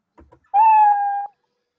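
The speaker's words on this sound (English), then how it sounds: "once we click the green flag, then the cat will play sound meow until it's done" The Scratch cat meow sound effect plays once in a coding exercise, a single clear, loud tonal meow lasting under a second, preceded by a couple of faint clicks.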